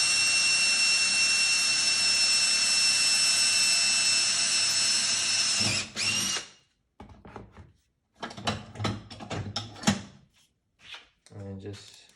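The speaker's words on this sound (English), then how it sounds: "you just have to drill a hole for the wheel" A power drill whirs steadily for about six seconds, drilling a hole for a chicken wheelchair wheel, then stops, followed by clunks and handling noises of parts being moved.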